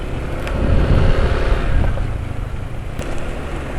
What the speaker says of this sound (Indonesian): Dalam kondisi begini suara mesin halus ya